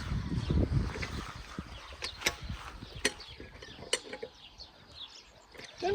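Duck-like quacking cries sound on a farm during tractor work, a few short sharp calls spread through the stretch over low background noise, with no talk.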